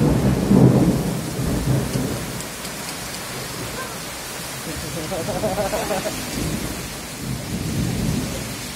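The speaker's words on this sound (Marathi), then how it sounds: "बारिश चालू है" Heavy rain pours steadily during a storm at a house under construction, with low thunder rumbles rolling through; voices murmur faintly beneath the continuous downpour.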